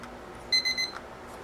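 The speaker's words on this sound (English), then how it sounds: "Makes a beep." An Uzoli EM3390 weather station gives a quick series of three high, clean beeps, close and fairly quiet, over a faint background hiss.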